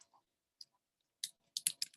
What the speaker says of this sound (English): So that's what we're going to start typing.